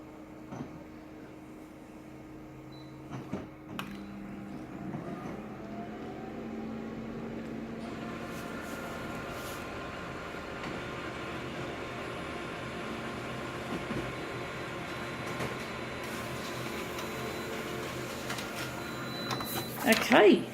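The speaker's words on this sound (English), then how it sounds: "let's see if our master copy prints off nicely with these new settings" A copier prints a master copy of a gaming magazine page, giving a steady mechanical hum and whir with faint tonal whine that runs unbroken for about twenty seconds, with a few sharp clicks near the start and end.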